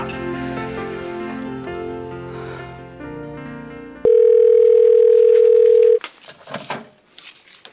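A steady telephone dial tone sounds alone and loud for about two seconds while a call is being placed, right after a music passage ends, followed by faint scattered noises.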